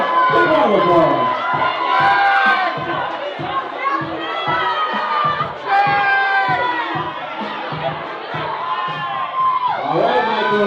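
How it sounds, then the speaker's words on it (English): Wedding guests at a beach resort in Brigantine, New Jersey, cheer loudly together with whoops and excited shouting from many voices close by, sustained throughout. "Oh, give it up! Big round of applause."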